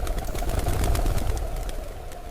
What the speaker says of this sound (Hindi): बच्चों ये है पिजन, जिसको हम हिंदी में कबूतर पढ़ते हैं।